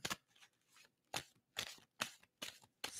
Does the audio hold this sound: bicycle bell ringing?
no